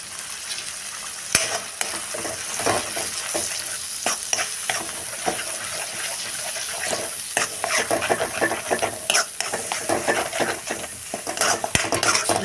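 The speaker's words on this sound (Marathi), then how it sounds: "चांगलं तेल सुटेपर्यंत 5-7 मिनिटे परतून घेऊया" Thick masala for chicken gravy frying in oil in a kadhai and being stirred, with a steady close sizzle broken by frequent scraping and clinking of a spoon against the pan.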